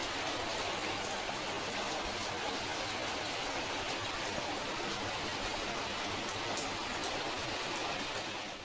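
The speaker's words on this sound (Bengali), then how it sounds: "এই যে দেখো কি ঝমঝমিয়ে বৃষ্টি পড়ছে।" Heavy rain pours down in a dense, steady roar that stays loud and unbroken throughout, with no voices over it.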